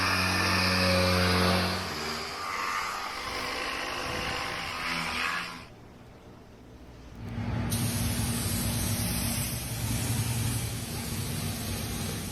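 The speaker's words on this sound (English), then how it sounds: "Painting looks so fun and relaxing, but it's probably an absolute pain." Spray gun painting a beat-up Mopar car, a steady loud hiss of paint spray that breaks off for a moment, then resumes with a high whine, no talking.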